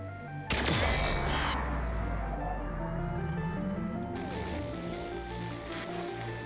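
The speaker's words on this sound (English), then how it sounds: "Explosion." Explosion in the video game Grounded, a sudden loud blast that rings out and then decays into a long rumbling tail, set against a steady game ambience, with no talk.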